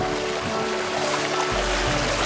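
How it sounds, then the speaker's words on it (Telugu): Water flows steadily in Griffeen Park, Dublin, on an evening outdoors: a dense, continuous rushing wash, fairly loud and unbroken for a couple of seconds. "వాటర్ సౌండ్ ఎంత బాగుంటుంది కదా."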